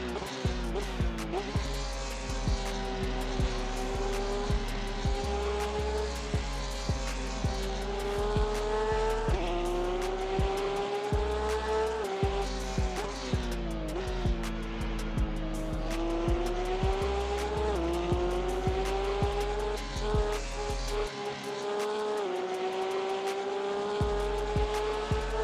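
Race cars lap Spa in the Assetto Corsa racing game against AI opponents, with a loud, continuous engine roar rising and falling through gear shifts and occasional tyre squeal, close and unbroken for the whole stretch.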